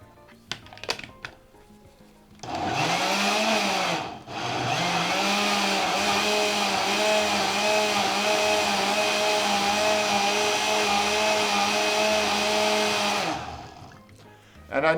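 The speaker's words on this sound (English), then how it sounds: "the blender does a pretty good job. I'm going to turn that back on again." A kitchen blender purees gazpacho with cucumber and garlic, whirring loudly and steadily for about ten seconds with a brief dip mid-run, then spinning down to quiet, preceded by a few light clicks.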